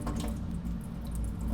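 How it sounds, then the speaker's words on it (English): Water is poured off settled starch in a kitchen while making Tibetan laphing, a steady low trickling and splashing flow with faint dripping, continuous and close throughout. "So we'll drain all the water from the top."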